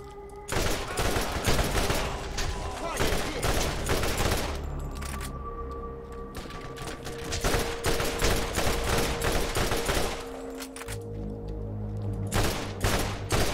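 Assault rifle gunfire in Borderlands rattles out in repeated rapid bursts, loud and close, with short pauses between volleys over a low game backdrop.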